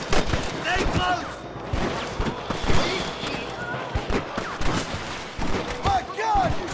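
Rapid gunfire rattles through a shootout with rustler guards in the video game Red Dead Redemption, bursts of sharp shots layered over shouting voices and game sound.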